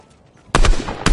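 Two loud bursts of Fortnite gunfire, the first stretching over about half a second and the second arriving sharply after a short gap, close and harsh over quiet game ambience.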